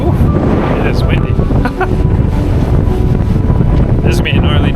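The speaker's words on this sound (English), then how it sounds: "it is windy." Strong gusty wind roars over a kitesurfing beach, buffeting the microphone with a constant loud low rumble and broadband rush, while people speak faintly underneath.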